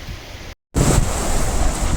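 Fast-flowing river beside a wooden footbridge on the Gaumukh trek in the Himalaya, a steady broadband rush of water with wind buffeting the microphone, broken by a brief dropout before the roar resumes.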